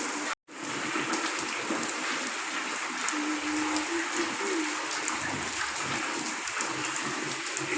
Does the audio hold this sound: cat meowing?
no